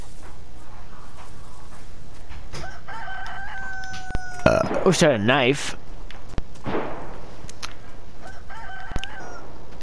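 A rooster crows loudly in the middle of the video game DayZ's soundscape, with someone talking briefly and scattered game noises around it.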